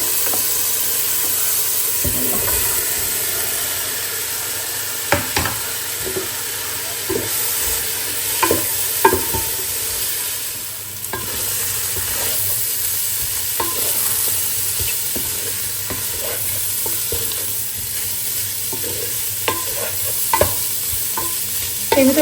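Minced meat sizzles and fries steadily in a pan for pasta, with scattered scrapes and clicks of stirring over a continuous hiss.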